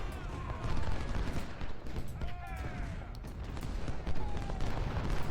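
Massed musket volleys crackle across a Civil War battlefield in Ultimate General: Civil War at Second Bull Run, dense overlapping gunfire rolling continuously while someone talks over the din.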